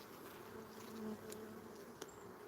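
Honey bees buzz in an open hive during an inspection, a faint steady drone close by with no talking.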